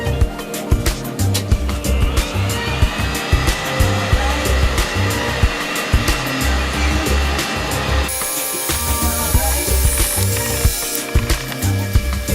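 A heat gun or hair-dryer-style blower runs steadily and fairly loud while warming super glue on a driver in a 50-year-old vintage Akai SW-35 speaker, its airy roar continuous with small mechanical clicks and a shift in tone partway through.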